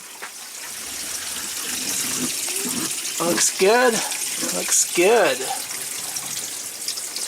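Water gushes and drains steadily from an RV kitchen sink fitted with a new HepVo drain, a continuous splashing flow with voices speaking briefly over it.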